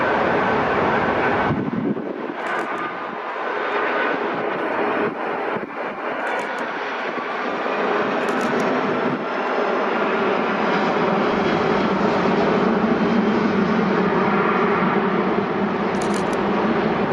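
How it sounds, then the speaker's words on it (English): A Boeing 757-200 airliner arrives at Newark airport from LAX, its jet engines roaring loudly and continuously throughout, with wind buffeting the microphone. "757-200 arriving from LAX as Flight 1981."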